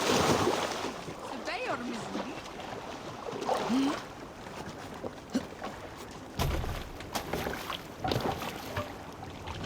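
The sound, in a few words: longship rowing through waves, from video game Assassin's Creed Valhalla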